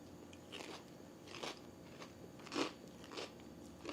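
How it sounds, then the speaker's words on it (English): Crisp crunches come from bites into a grilled cheese sandwich seasoned with spices such as garam masala, several close, dry crackling bites spaced across a quiet kitchen. "You hear that crunch?"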